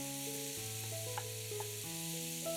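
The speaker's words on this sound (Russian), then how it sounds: "Обжариваем лук с грибами до золотистости." Onions and champignon mushrooms fry in a pan, giving a steady, close sizzle with light stirring, beneath soft background music and no talking.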